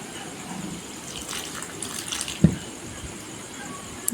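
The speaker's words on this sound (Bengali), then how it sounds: "এরপরে দিয়ে দিতে হবে অল্প অল্প করে জল" Water trickles and gushes in small additions into flour being mixed with salt for a chicken chirag dough, a soft running pour with a brief louder splash midway.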